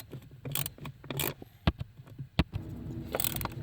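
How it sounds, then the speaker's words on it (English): Screws are driven back into the blower fan housing of a 2013-2016 Dodge Dart, giving close mechanical clicks, ratcheting and scraping with a few sharp knocks, all at moderate level with no talking. "All right, so we just got to get the screws back in now."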